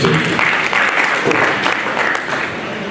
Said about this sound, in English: While Professor J comes up, the person representing you, please, a round of applause for them, please.